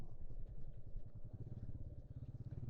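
A motorcycle on a Kerala touring ride idles low and steady as it rolls into a hostel's two-wheeler parking area, a quiet, even engine throb with a soft clatter.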